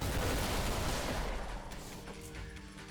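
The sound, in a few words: rail cannon firing in the video game Ultrakill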